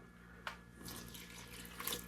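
Water runs from a tap in a steady, hissing stream for a couple of seconds as 3/4 cup is measured for bread dough, with a brief clink near the start.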